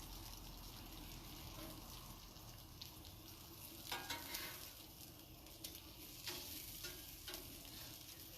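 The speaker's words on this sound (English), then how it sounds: "I like putting the bacon grease on the griddle because, again, that'll add some flavor to the burgers" Bacon grease sizzling on a griddle while smashburgers cook: a low, steady fizz with a few sharper crackles and spatula scrapes, fairly faint overall.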